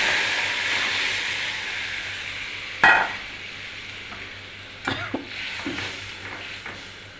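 Fish curry with potato and pointed gourd tempered with cumin in a hot pan gives off a steady, close frying hiss, with sharp louder sizzle bursts near three and five seconds.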